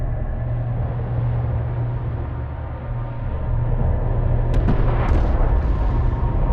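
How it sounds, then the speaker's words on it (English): Combat in the desert strategy game Homeworld: Deserts of Kharak, with a turret taking fire: a steady low rumble of battle carries throughout, broken by a few sharp bursts of impacts near the end. "One of our turrets is taking fire."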